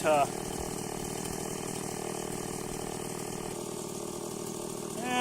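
A Stihl chainsaw engine idles steadily with a low, even rattling hum, loud and close, after a brief higher rev at the start.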